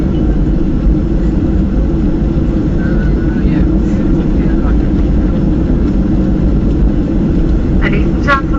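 Ryanair Boeing 737-800 landing at London Stansted, heard from inside the cabin as a loud, steady low engine and airframe roar throughout, with faint brief tones near the end.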